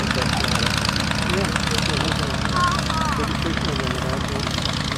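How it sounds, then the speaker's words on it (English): A small airplane's 45-horsepower three-cylinder piston engine idles steadily with a low, even drone, close by and unbroken throughout, at an airport air show. "Powered by that 45 horsepower V3 engine."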